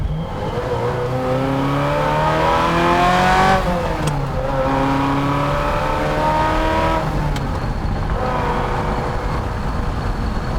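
Ferrari 348 GTB V8 accelerating smoothly and linearly, engine pitch climbing steadily through the gears with brief dips at shifts, loud and sustained from inside the car, no talking.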